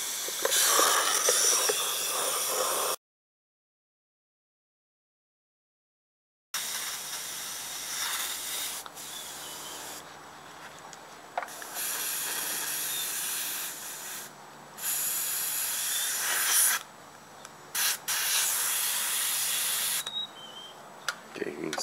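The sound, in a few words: airbrush spray gun spraying cleaner into spray bucket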